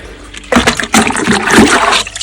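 Liquid poured into a farm pump sprayer tank gurgles and splashes in loud, close bursts after a brief quiet start, churning steadily with no talk.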